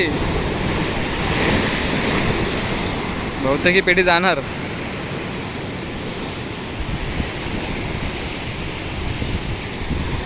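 Rough sea surf pounds a fishing village shoreline with a constant loud roar and wind buffeting the microphone, while a person speaks briefly over the crashing water.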